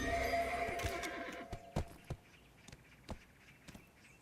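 A horse in the Korean folklore game Tale of Duoksini whinnies at the start, followed by a scattering of sharp hoof clops and taps that fade out in sparse, uneven steps.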